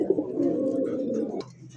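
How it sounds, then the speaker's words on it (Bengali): A Bombay pigeon (red, native Bombay breed) gives a low, throaty coo that rolls steadily for over a second, close and clear, followed by faint background noise. "এই মুহূর্তে রেড কালার বোম্বাই কবুতর, দেশি বোম্বাই"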